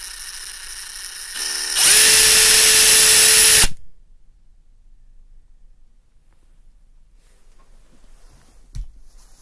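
A power drill whirs loudly and steadily for about two seconds after a brief spin-up, then stops abruptly, leaving near silence with a faint tap near the end.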